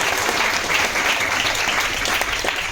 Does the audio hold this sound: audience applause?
yes